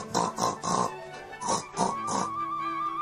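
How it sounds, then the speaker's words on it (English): A big pink pig grunts and oinks in two quick runs of three close, fairly loud snorts, then falls quiet. "They would grunt at Jemima the pig"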